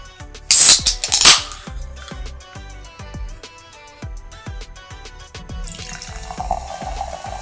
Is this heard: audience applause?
no